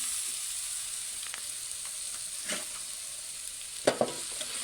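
Green chillies frying in oil in a kadai, giving a constant bright hiss of sizzling with occasional soft stirring taps and a couple of louder metal clinks near the end.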